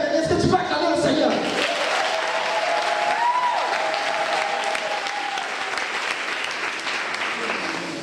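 Sustained applause and acclaim from a church congregation at a French-language Christian retreat, a steady wash of clapping with some raised voices, loud and continuous throughout.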